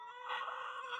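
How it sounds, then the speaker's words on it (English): Chickens on a homestead let out a short, faint, nasal clucking call, a single brief vocalization heard alone. "here's some of our chickens."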